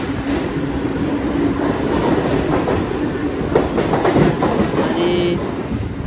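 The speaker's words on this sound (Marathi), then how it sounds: "आता ट्रेन पनवेलवरून सुटलेली आहे." Mumbai suburban local train departing Panvel, with a steady rumble and rhythmic clickety-clack of wheels on rails heard from inside a carriage, loud and continuous, plus a brief squeal near the end and no talk.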